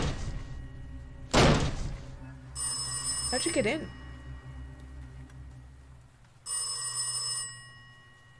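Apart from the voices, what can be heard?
telephone ringing in the video game Last Days of Lazarus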